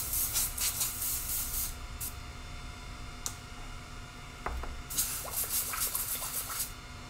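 Airbrush spraying black paint through a stencil: bursts of soft, close hissing spray that start and stop, with quiet gaps and a faint background hum between them.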